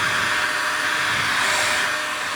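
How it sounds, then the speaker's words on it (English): A heat gun blows hot air onto the faded plastic bodywork of a 1987 Honda CR500 motorcycle, giving a continuous, steady, fairly loud fan-and-air roar that stays close and unbroken throughout. "Now I'm going to put a heat gun over that."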